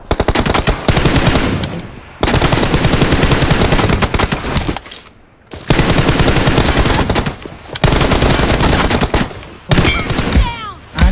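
Rapid automatic gunfire in a close-combat team deathmatch shooter video game plays as loud sustained bursts. Short gaps separate the volleys, and there are a few single shots near the end.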